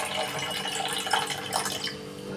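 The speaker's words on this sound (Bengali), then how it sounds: "আমি এই জায়গায় একটু ঠান্ডা জল দিয়ে ধুয়ে নিচ্ছি।" Cold water runs steadily from a tap at moderate volume, splashing and gurgling continuously as food is rinsed in a kitchen while making rasgulla.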